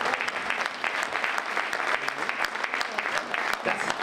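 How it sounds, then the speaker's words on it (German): Dense, continuous applause from the crowd at a women's épée senior World Cup fencing event in Leipzig, steady and full for the whole stretch. "Sie bekommen von uns als Leipziger und auch von unseren internationalen Gästen einen riesen Applaus"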